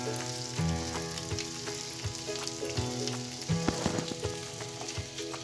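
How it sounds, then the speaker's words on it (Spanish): Carrot pieces sear in a hot pan with a lively sizzle and crackle, broken by clinks and scrapes as they are stirred, fairly close and with no talking. "Y las voy a dejar que se salten un poco, que se sellen un poquito, porque eso le da un mejor sabor a esta zanahoria."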